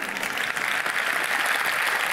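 Steady applause from an audience, dense and continuous throughout with no break, moderately loud and fairly close.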